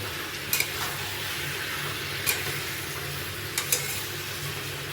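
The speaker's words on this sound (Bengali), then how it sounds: "ভালো করে কষিয়ে নেব মশলা, কাঁঠাল, আলু টালু দিয়ে" Spices fry with jackfruit and potatoes in a pan, a steady close sizzle broken by a few brief clinks of the stirring utensil, with no talking.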